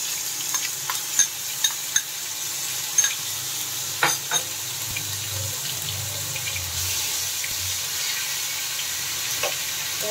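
Spice paste with chopped tomato and salt frying in a pan for raw jackfruit kofta curry, a quiet sizzle under scattered clicks and scraping stirs, no voices.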